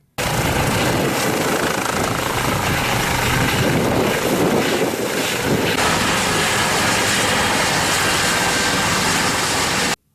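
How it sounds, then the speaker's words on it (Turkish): Turkish Ministry of Health 112 emergency ambulance helicopter flying out of Samsun, a loud, steady roar of rotor and engine that holds constant for about ten seconds and then cuts off abruptly. "Samsun'dan havalanan Sağlık Bakanlığı 112 acil servise ait ambulans helikopter Havza ilçesine giderek Fatma Ç'yi alıp"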